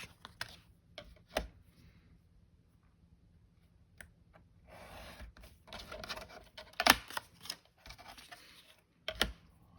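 Scissors snip and trim around a paper napkin (serviette) laid on an altered book page, giving scattered short crisp cuts with quiet paper handling between them, fairly close and without talk.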